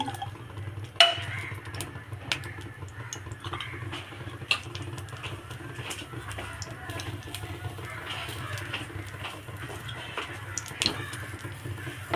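Bread fries in ghee in a pan with a soft, steady sizzle and patter, broken by occasional sharp clicks and scrapes of a utensil. No one speaks.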